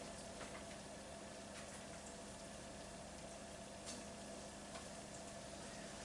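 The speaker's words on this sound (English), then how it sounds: "they're bubbling up and they're frying a bit." Steady sizzling and bubbling of eggplant pieces frying in oil in a pan, continuous and close, with no talking.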